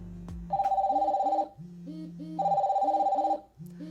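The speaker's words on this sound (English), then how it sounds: "This is my phone, my Huawei watch, and this all ringing at once" A Huawei smartwatch and a phone ring together with an incoming call, two repeating electronic ring patterns alternating in loud, regular bursts, close by with no talking.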